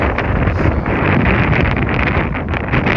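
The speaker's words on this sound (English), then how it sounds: "It's very windy" Loud, steady wind buffets the microphone with a constant roaring rush throughout.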